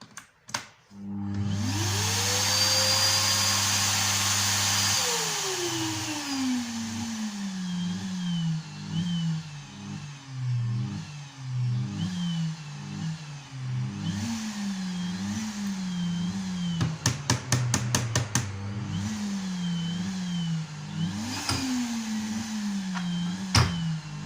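A faulty Arzum vacuum cleaner's electric motor whines up to a steady roar, then repeatedly stutters and dips in pitch as it cuts out and surges back, with occasional rapid clicking.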